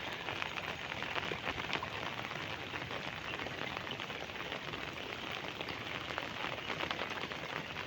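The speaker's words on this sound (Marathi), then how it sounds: "अजून पण पाऊस चालूच आहे, बंद झालेला नाही." Steady rain falls over waterlogged soybean fields, a dense continuous patter that holds evenly throughout with no voices.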